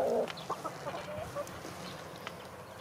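Several short, soft clucks from Bielefelder chickens come in scattered bursts over a low background hum, with no voices.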